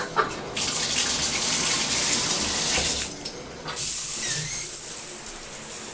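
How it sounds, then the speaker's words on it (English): Water runs through a chrome Niagara Conservation Luxury 1-spray fixed showerhead of 2-1/4 inches, making a steady, close hiss of spray that continues without a break. "let's put some water through it."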